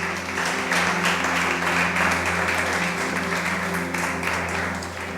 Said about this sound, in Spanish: Vamos a darle un aplauso al Rey.